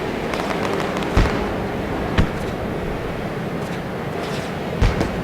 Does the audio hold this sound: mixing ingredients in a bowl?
no